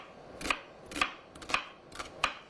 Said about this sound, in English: I call this granny chopping